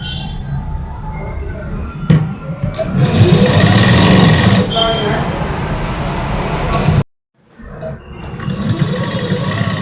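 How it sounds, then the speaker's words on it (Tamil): Sewing machine stitching a second line over an existing seam on blouse fabric, running in steady mechanical bursts that stop abruptly near the end, then a quieter whirr resumes; a voice talks during the stitching. "இதோட சேர்த்து இப்போ நம்ம போட்ட தையல் மேலேயே இன்னொரு தையல் போடணும்"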